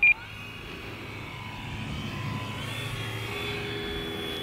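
A radio-controlled model airplane flying with throttle eased up, a steady distant engine drone holding level and rising slightly over a faint background.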